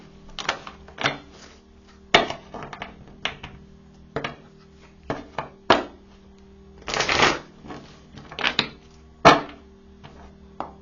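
Oracle cards being shuffled in irregular bursts of crisp riffling and flicking, close and clear against a quiet, faintly humming background with no talking.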